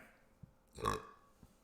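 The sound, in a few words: burp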